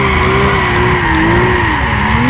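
In Gran Turismo 6, a four-wheel-drive car drifts through a corner with a loud, sustained tire squeal whose pitch wavers over a steady engine drone, close and continuous throughout.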